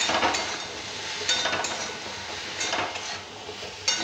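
Pumpkin pieces frying with salt in a pan give a continuous soft sizzle, broken by a few scraping stirs and light clinks of a spatula against the pan.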